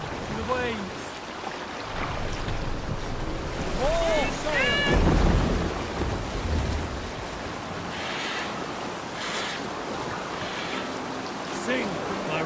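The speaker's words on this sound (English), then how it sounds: "The waves!" Sea ambience in Assassin's Creed Valhalla: a steady wash of waves and wind with a swell in the middle, with voices calling over it.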